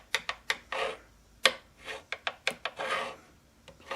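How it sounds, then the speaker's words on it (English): A homemade fret spanning tool is rocked across a high fret on a guitar, giving sharp, close clicks at an irregular pace between short scraping rubs, with no talk. "here's our little homemade fret spanning tool, and this is what you use to check if one's high"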